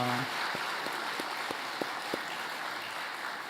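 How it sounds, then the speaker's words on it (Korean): Applause from a church congregation during a Sunday service, a steady broadband patter of many hands clapping with a few sharper individual claps standing out, continuous and moderately loud. "박수 한번 부탁드리겠습니다."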